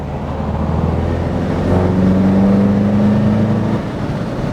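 A tuned 4WD pulls hard in third gear, its engine drone rising steadily in pitch over a few seconds before easing off, loud and continuous from inside the vehicle, with no talking.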